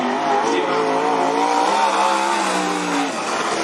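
Winged 360 sprint cars roaring around the Cottage Grove Speedway dirt oval, a sustained, steady engine drone with slowly shifting pitch, loud and fairly close throughout.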